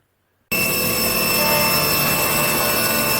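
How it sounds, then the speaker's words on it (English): After half a second of silence, a CNC milling machine cuts into the back of a motorcycle swingarm, a 2021 Yamaha R1 part. The cutting is a loud, steady, high machining whine that holds without a break. "Milling out the back of the arm is not so easy, unless you've got access to a CNC milling machine like I have."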